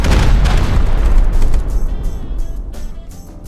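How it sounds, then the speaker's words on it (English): Loud booming explosions as a base is bombed in a video game, a dense rumbling blast that fills the opening second and a half, then decays into a fading roar with crackling debris. "No, don't bomb my base."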